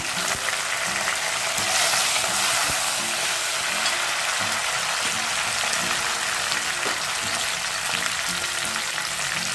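Chopped tomato frying with browned garlic and curry leaves in a hot pan gives a steady, dense sizzle that carries on unbroken, close and fairly loud, with no voices over it.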